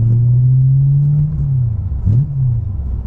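A BMW E92 M3 with a modified exhaust sits at a steady, deep, close engine drone, then drops briefly and blips back up in a quick rev before settling.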